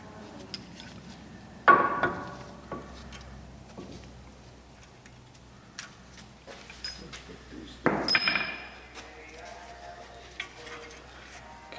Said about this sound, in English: So just get a punch and punch them out.